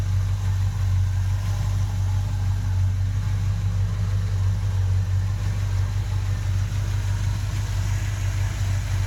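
A low, steady idle from a 1977 Chevy truck's small block 400 V8 with exhaust manifolds rumbles continuously and close by, with no talking, just an even throaty drone throughout.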